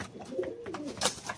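A fancy pet pigeon in a cage coos softly nearby, a few low throaty warbling calls rolling one after another with faint room noise around them.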